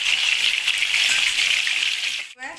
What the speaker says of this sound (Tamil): பாருங்க மீன் நல்லா பொறிஞ்சிருச்சு எண்ணெயும் அடங்கிருச்சு